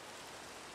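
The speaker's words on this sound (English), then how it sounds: "Oh, it just started raining." Rain in the video game Minecraft hisses as a steady, dense wash of noise, even and unbroken across the moment.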